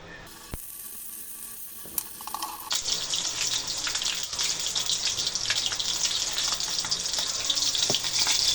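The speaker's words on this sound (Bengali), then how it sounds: "এখন মাছটি ভেজে নেবো" Catla fish rubbed with salt, turmeric and chili powder frying in a pan, a loud steady broadband sizzle that swells after a few seconds of quieter hiss and carries on continuously with small crackles, no talk.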